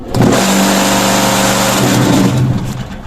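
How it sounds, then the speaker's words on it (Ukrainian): A concrete block-making machine with its bottom vibrator switched on produces a loud, steady mechanical drone with a strong humming tone, starting abruptly and holding constant before easing slightly near the end. "нажимаю нажимаю значить, нижній вібратор. От, Вмикаю, поїхали."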